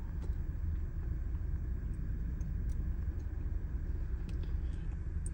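Car engine running steadily at idle during a misfire test, a continuous low rumble with a faintly uneven pulse and no voices.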